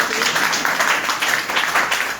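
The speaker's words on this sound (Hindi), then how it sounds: "एक बार जोरदार ताली के लिए।" A crowd applauding at a motivational speech, a dense, loud wash of clapping that holds steady for a couple of seconds.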